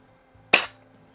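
The trigger of a Sheridan Blue Streak .20 caliber air rifle is dry-fired with no pumps, giving a single sharp, close snap after a faint click and then quiet.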